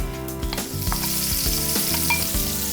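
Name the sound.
sliced onion frying with cumin seeds in sunflower oil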